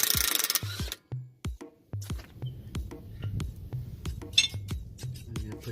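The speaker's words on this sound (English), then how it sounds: "we're gonna take this nut off the axle" Metal tools clink and knock in short, irregular bursts while the axle nut comes off the front wheel hub of a 2008 Nissan Pathfinder, close and fairly loud, with a brief hiss at the start.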